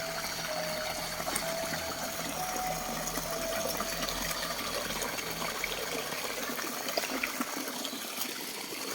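Water runs steadily through an outdoor setting, a continuous flowing wash with a faint trickling texture and no voices.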